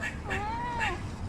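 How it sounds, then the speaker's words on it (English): A cat outdoors on a residential street gives two short meows followed by a longer drawn-out one, close and clear over faint background noise. "Look at the kitty."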